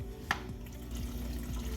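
Water trickles and gurgles into a Fluval 207 aquarium canister filter as it fills. The flow is soft, close and continuous, with a low hum beneath it and one brief splash near the start.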